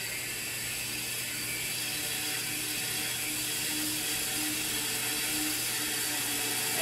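Compressed air flows into an SCBA bottle through a slowly opened valve during fire district training, a continuous close hiss and mechanical rattle that holds steady and swells slightly toward the end; no one speaks.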